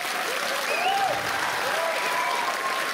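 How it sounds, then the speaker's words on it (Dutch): An audience at a comedy class final applauds in a dense, sustained wash of clapping, with a few voices calling out above it. "dus geef ze gewoon een applaus"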